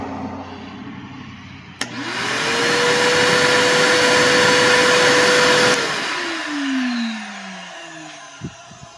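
A Ryobi 40V battery shop vacuum starts after a short click, spinning up to a loud, steady whooshing roar with a rising motor whine, then powers down with a descending whine and a faint knock near the end.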